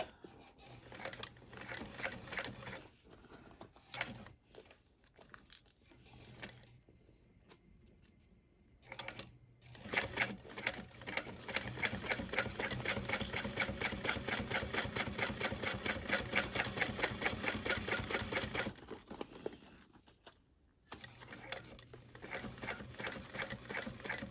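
A sewing machine stitches a wide backpack in repeated bursts of rapid mechanical chatter, some short and some sustained, separated by brief pauses, close up and fairly quiet.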